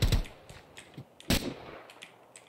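Gunfire in the video game Minecraft Free Fire comes as several quick bursts of sharp, close shots, two of them louder than the rest, with scattered softer clicks in between.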